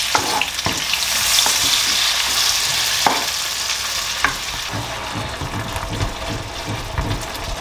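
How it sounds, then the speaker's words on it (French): Garlic and tomatoes frying in a hot pan, a loud continuous sizzle broken by occasional sharp clacks of stirring, with the crackle easing slightly toward the end. "on va mettre l'ail. Voilà, là on va faire revenir l'ail. Les tomates."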